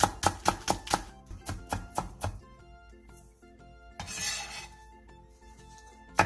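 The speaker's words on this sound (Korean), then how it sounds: "대파 조금을 길게 반으로 가른 뒤 쫑쫑 썰어주세요" A knife rapidly chops green onion (daepa) on a cutting board, about a dozen crisp, close, evenly spaced taps, then a pause filled with soft music before one more tap at the end.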